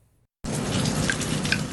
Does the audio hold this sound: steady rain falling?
yes